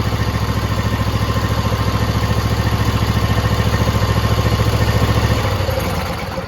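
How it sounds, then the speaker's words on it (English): A Craftsman PYT9000 twin-cylinder engine runs loud and near with an even, throbbing idle. It winds down and fades in the last second. "Both cylinders are running."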